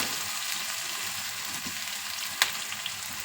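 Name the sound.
fennel seeds frying in a pan for egg pulao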